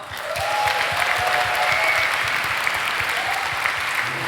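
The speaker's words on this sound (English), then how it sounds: "Can we get a round of applause?" JavaScript conference audience applauding after a talk, a loud, sustained sheet of clapping that swells in quickly and holds steady, with faint whistles or cheers above it.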